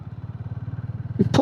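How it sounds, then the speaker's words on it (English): A 2026 Hero Hunk 440 motorcycle engine pulls in third gear at about 20 mph with a close, steady low throb of even pulses, and a brief burst of rising noise comes at the very end. "It pulls in third nicely at 20 mile an hour"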